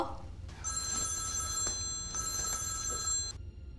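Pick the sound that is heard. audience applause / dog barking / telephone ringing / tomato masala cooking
telephone ringing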